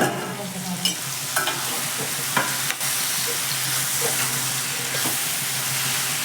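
Tomato chutney cooks in a pan with a continuous bubbling sizzle, broken by several sharp clinks and scrapes of stirring, heard close and without speech.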